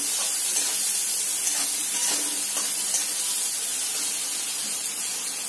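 Pieces of food frying in oil in a pan until browned for desi-style pasta, a steady close hiss and sizzle with faint stirring sounds and no voices.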